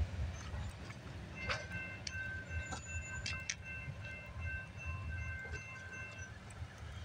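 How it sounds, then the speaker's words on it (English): A CSX westbound freight train rolls past, a continuous rumble of wheels with metallic squeals and clanks rising over the steady roar. "we got CSX westbound train coming down the line"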